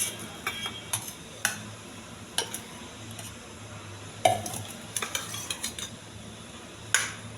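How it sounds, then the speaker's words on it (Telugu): A spoon scoops brown rice into a lunchbox, making scattered light clinks and taps against the container, some sharper than others, over a quiet background with no talking. "పెడుతున్నానండి, బ్రౌన్ రైస్."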